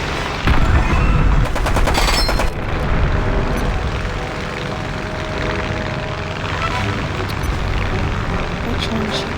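Aircraft machine guns fire in the War Thunder combat flight game, with a loud rapid burst early on over a constant engine drone that carries through the rest of the clip, and some voice mixed in.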